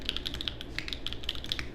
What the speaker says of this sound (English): this is the first mechanical keyboard I've ever built myself